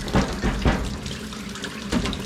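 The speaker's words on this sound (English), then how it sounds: "I am going to turn this water on and see if I can't clean up the sink a little bit" Tap water runs steadily into a laundry sink, a close, continuous rushing splash with a few louder surges and no talk.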